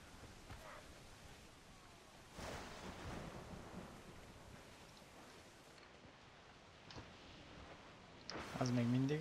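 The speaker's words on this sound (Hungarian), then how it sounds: "Becsapott a villám." Thunder from a lightning strike during a storm at sea in Assassin's Creed IV Black Flag, heard as distant low rumbles amid wind and rain, with a sharper crack near the end.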